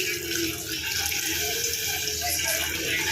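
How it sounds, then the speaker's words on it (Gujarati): Amul Gold milk is poured into tulsi tea in one continuous, close, gurgling stream of liquid that lasts the whole moment, with no talking over it. "અંદર નાખીએ દૂધ અમૂલ ગોલ્ડ"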